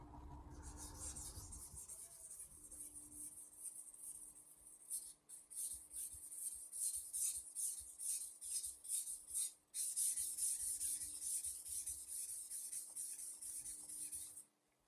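Steady, close scraping of a Mercer high-carbon stainless steel knife drawn over Naniwa Super whetstones, repeated back-and-forth strokes forming a pulsing rasp with a brief break partway through, no voices present.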